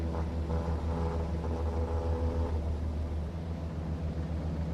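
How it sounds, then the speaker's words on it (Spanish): Light aircraft engine running at full takeoff power along a runway, a steady loud drone with low harmonic hum that holds constant throughout, with no voices. "El despegue empieza con la suave aplicación de máxima potencia y una ligera presión posterior de la columna de control"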